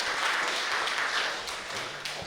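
Applause for the choir during a Catholic church mass, a steady wash of many hands clapping in a reverberant hall, moderately loud and continuous.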